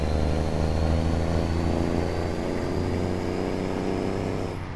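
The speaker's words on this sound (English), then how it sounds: "Can everyone hear the truck now?" A truck engine in Euro Truck Simulator 2 rumbles in a steady, close, loud drone that eases off slightly toward the end, with no talking over it.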